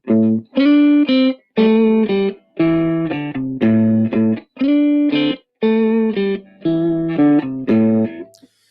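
Electric guitar playing a pentatonic riff through distortion and effects, a loud chopped pattern of short strummed bursts with brief gaps between them, repeated steadily and played alone.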